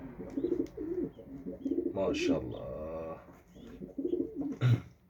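Pigeon chicks and their mother coo softly and repeatedly up close in a nest, with a brief spoken word and some rustling mixed in.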